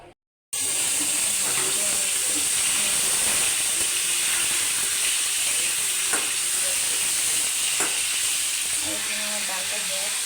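Turmeric, chili and coriander powder fry in hot oil in a pan, giving a loud, steady sizzle that starts abruptly and runs without a break, with faint stirring scrapes underneath.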